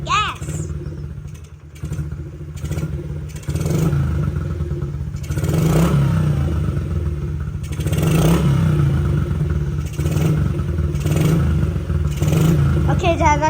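A Honda CRF50 dirt bike, kick-started after sitting unused for five years, runs at a rough idle with clattery mechanical noise throughout, while people talk over it nearby.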